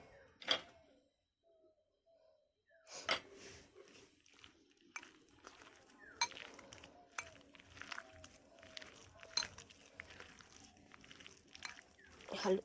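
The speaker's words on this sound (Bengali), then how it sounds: "হাত দিয়ে ভালো করে একটু ম্যারিনেট করে নিচ্ছি বা গুলে নিচ্ছি বা মেখে নিচ্ছি" Wet squishing and slapping of hands kneading grated carrot batter with cornflour and gram flour, irregular soft bursts close by, with a brief silent pause early on.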